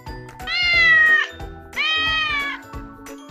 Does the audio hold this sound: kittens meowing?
yes